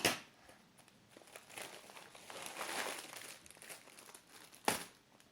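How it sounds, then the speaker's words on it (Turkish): A Google Cardboard VR headset package being opened by hand, close crinkling and tearing of packaging in uneven bursts with a sharper rustle near the end, no talk. "Hemen açalım paketi."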